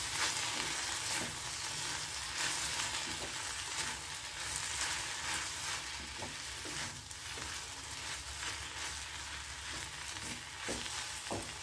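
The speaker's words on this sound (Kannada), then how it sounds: "ಹೀಗೆ ಚೆನ್ನಾಗಿ ಹುರ್ಕೋಬೇಕು." Okra frying in a pan gives a continuous close sizzle, with soft scraping and stirring strokes recurring throughout and no voices.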